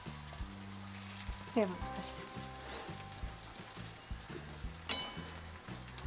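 Stuffed brinjals (bharli vangi) fry in a pan with a soft, crackling sizzle beneath background music, and a voice speaks briefly.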